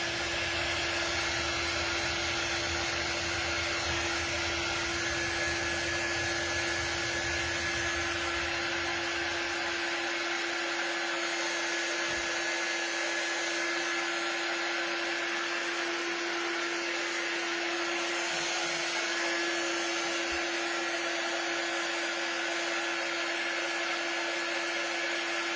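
A hair dryer blows steadily on a thrifted Christmas decor piece, a loud constant whine with a strong hum, its low rumble dropping away about ten seconds in as the airflow shifts.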